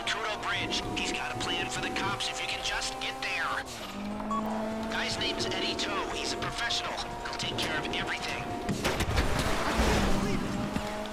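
A car driven in GTA 5 Online makes a loud engine drone that rises and falls in pitch, with bursts of tire squeal and skidding, while voices talk over it.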